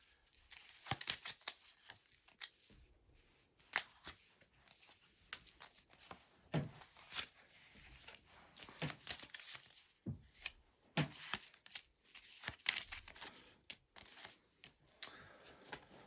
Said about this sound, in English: I'm going to lay down your cards on the table.